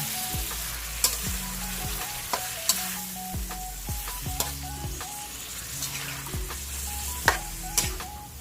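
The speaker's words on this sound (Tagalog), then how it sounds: "Ang next nating ilalagay yung ating sandamakmak na manok. Yan, lahat na natin. Tapos, haluin lang natin ng paganyan." A large batch of chicken fries and is stirred in a pan, making a continuous close sizzle broken by repeated scraping knocks of the stirring utensil, with no talk.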